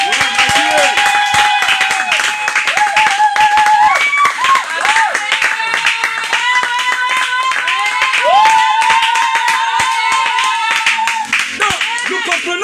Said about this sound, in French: Est-ce qu'on peut lui donner ça l'acclamation encore?